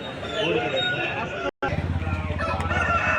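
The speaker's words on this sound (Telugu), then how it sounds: "సంవత్సరం వరకు వయసు కలిగినటువంటి కోడిపుంజు రెడీ టు యూజ్ అనమాట" A year-old rooster crows loudly nearby amid a busy crowd at a poultry market in Vijayawada in the rain, with voices chattering in the background and a brief dropout partway through.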